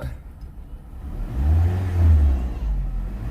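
A 2004 PT Cruiser Limited Edition engine with freshly replaced spark plugs and coils revs up smoothly from idle, a low rumbling climb that swells around the middle and holds, heard close by with no talking.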